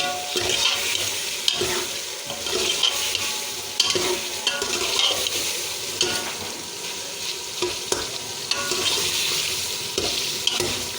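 Chicken pieces and tomatoes frying and being stirred in a pan, a steady close sizzle with intermittent scraping and stirring clatter, no voices.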